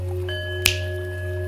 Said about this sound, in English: I'm going to snap my fingers